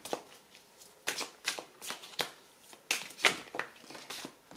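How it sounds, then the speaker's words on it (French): Tarot cards are shuffled by hand in a series of quick, close, soft riffling bursts, roughly one per half second, quiet and without talking. "Je vais tirer avec vous les premières cartes."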